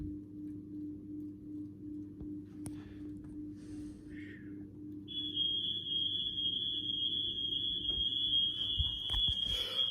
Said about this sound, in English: Well, that's the fire alarm, so I'm gonna have to go in a second